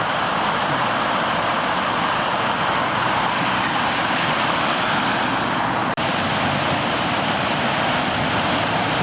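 Flooded Boulder Creek at Folsom, swollen after heavy flooding, roaring as a dense, continuous rush of water that stays loud and steady, with a brief click partway through.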